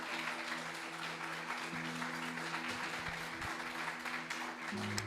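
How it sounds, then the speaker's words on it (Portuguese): A church congregation applauds, a broad steady roar of clapping that holds evenly throughout, with a sustained musical tone humming underneath. "só quem é de Jesus já dá um forte aplauso ao nome dele"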